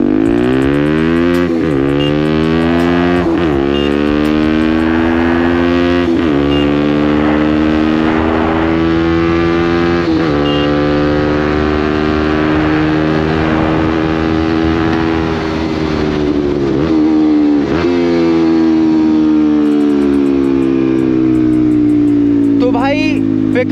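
Six-speed motorcycle engine with a newly replaced carburettor diaphragm and ignition coils, revving hard through the gears while riding: repeated climbs to high RPM, each broken by a short dip at a gear change, loud and close, with someone talking over it.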